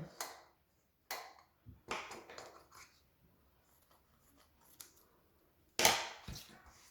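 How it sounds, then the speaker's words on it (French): Cutting the edges of baking paper for an apple cake, heard as a few short, crisp snips and rustles spaced across the quiet, with a louder burst near the end. "je viens couper les bords du papier"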